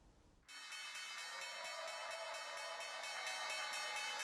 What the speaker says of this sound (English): ringing the iconic opening bell at the New York Stock Exchange on Thursday